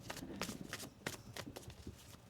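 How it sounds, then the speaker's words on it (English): A deck of tarot cards is shuffled by hand in a series of quick papery riffles and slaps, with several bursts in a row at close range and no talking. "One more shuffle here."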